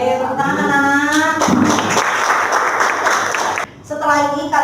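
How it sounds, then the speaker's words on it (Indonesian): Children clap together in a classroom, a brief burst of scattered applause in the middle, with a teacher's voice talking before and after it. "Oke, tepuk tangan anak-anak."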